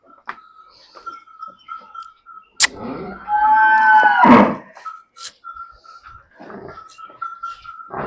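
A buffalo gives one loud, drawn-out moo midway through, with quiet clicks and ticks before and after.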